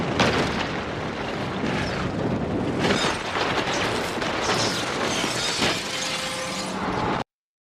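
A nuclear reactor tank bursts in a film scene, a dense, loud roar of shattering and crashing debris that fills the whole stretch without pause before cutting off abruptly.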